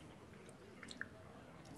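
A person chewing with wet mouth smacks during a Hearthstone esports match broadcast; a few faint, soft clicks and smacks over a quiet background hiss, close to the microphone.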